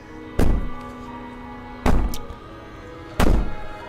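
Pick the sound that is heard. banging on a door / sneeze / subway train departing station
banging on a door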